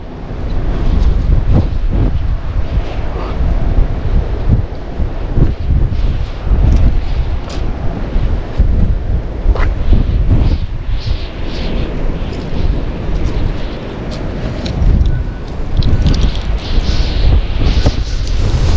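Strong gusts batter the microphone in a roaring, turbulent rush that surges and dips without pause, loud and close, with no voices.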